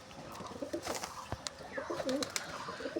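Pigeons in a loft coo in soft, throaty, repeated rolls, close by and mingled with light fluttering and shuffling.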